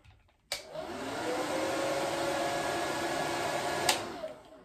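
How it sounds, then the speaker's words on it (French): A hair dryer on its lowest setting switches on with a click and blows with a steady whir for about three seconds, then cuts off. "je vais mettre le sèche-cheveux au niveau 1"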